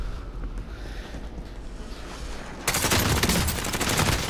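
Gunfire erupts in Call of Duty: Modern Warfare as a loud, continuous burst of rapid automatic shots. It follows a quieter stretch of low rumbling ambience, and no one speaks.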